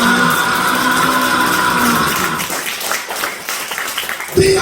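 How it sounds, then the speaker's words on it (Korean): A church congregation at a revival service breaks into scattered hand clapping as sustained music fades, the claps ragged and fairly close. "Why don't you clap your hands to Jesus?"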